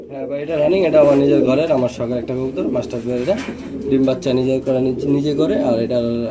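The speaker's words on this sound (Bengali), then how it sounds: "খুব ভালো মানের রানিং রেসার কবুতর জোড়াটা" Racing pigeons coo repeatedly in soft, throaty warbles, close by at a pigeon farm, while someone talks over them throughout.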